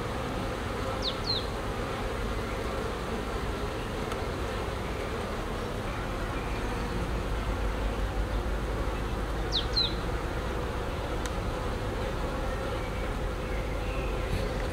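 A dense, steady hum of many honeybees buzzing close by inside a hive, continuous and even, with a couple of faint chirps in the background.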